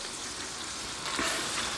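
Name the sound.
chicken pieces frying in butter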